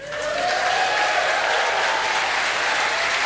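An arena crowd applauds a bronze medalist at the 1994 Commonwealth weightlifting championships in the 76 kg class, a sustained, loud wash of clapping that swells quickly and holds steady.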